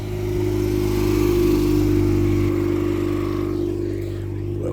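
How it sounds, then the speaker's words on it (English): A small engine drones nearby as a 1987-1988 Honda Acti kei truck rolls past, loud and steady, then fading slightly as it moves off. "Let's not get run over by that Honda Acti."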